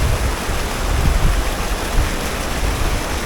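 Loud, constant rush of falling water from a waterfall by a tunnel on a steelhead fishing river, a dense steady roar with no voices or breaks.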